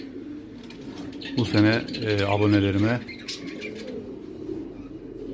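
Male pigeons cooing up close: one clear, rolling coo of about a second and a half over quiet background, with someone talking around it.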